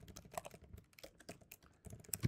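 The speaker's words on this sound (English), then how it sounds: "we're typing this out now" Rapid, uneven clicking of keys on a computer keyboard, close and fairly quiet, with a few louder keystrokes near the end.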